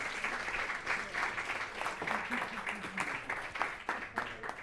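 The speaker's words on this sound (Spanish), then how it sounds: "Aplausos." Audience applause at a talk, a steady patter of many hands clapping at moderate distance, sustained for several seconds with faint crowd murmur beneath.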